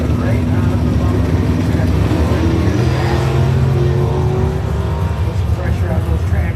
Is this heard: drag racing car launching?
yes